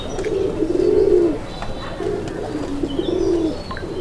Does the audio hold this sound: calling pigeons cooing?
yes